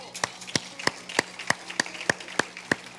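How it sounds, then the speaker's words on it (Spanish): A church congregation claps in steady rhythm, about ten sharp, evenly spaced claps, close and clear above a quiet room. "Dale un aplauso al Señor."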